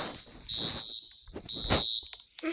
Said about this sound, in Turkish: Zil çalıyor.